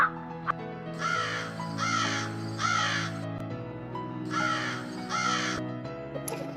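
A cartoon crow caws in a Tamil children's story, with five loud, harsh caws in an irregular series over a sustained background music bed.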